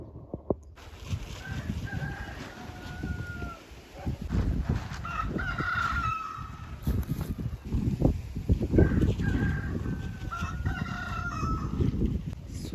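Several Persian roosters crow repeatedly, their long cock-a-doodle-doo calls overlapping and answering each other outdoors, with some low rumbling background noise.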